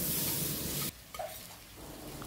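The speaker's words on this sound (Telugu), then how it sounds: "ఇది కూడా కాసేపు అలాగా ఫ్రై చేసేసుకుంటే చక్కగా ఫ్రై అయిపోతాయి" Potatoes frying in oil in a pan for a potato and pointed gourd curry, a steady sizzle that cuts out abruptly partway through, then returns quieter with faint stirring scrapes.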